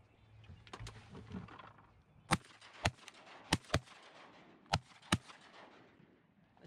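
Several sharp shotgun blasts during a California duck hunt ring out outdoors in a loose irregular volley, about six loud reports spread across several seconds over quiet background noise.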